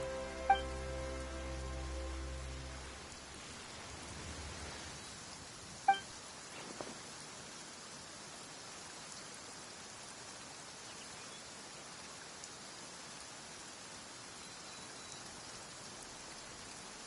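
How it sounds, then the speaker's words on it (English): Steady rain pours in the fantasy world of the video game Genshin Impact, a soft continuous hiss that rises after a brief musical opening and runs to the end, with a couple of faint clinks. "Why is it raining all of a sudden?"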